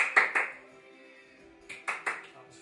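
Children in a classroom skills challenge clapping in short counted groups: two sharp claps, a pause, then three more, close and distinct against a quiet room.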